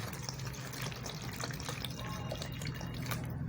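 Water is poured onto cut guava pieces in a blender jar, a steady soft splashing and trickling stream heard faintly and close, with no talk.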